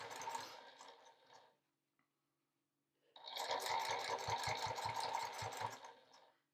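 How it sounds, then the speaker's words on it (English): A sewing machine stitches binding onto a pot holder in two bursts separated by a short pause, the second run showing a clear fast needle rhythm, close and fairly quiet. "So I'm just going to sew really carefully around here."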